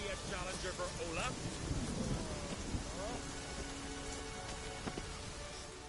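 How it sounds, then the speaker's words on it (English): Thunderstorm and steady rain in The Witcher 3, a dense constant wash of downpour with rumbling low thunder, while voices speak over it throughout. "The storm, damn it."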